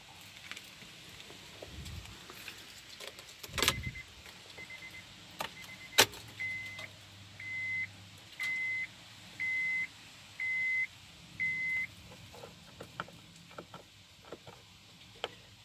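A 2007 Honda Pilot with about 175,000 miles is started after quiet keys and clicks, then a brief engine crank and low idle, while a chime beeps in a steady repeating pattern near the microphone.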